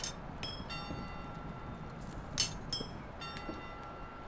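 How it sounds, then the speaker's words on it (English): Bells ring repeatedly in the Medieval Blacksmith video game, a series of bright metallic strikes at irregular intervals over a steady low background hum, moderately loud throughout. "what is going on with the bells?"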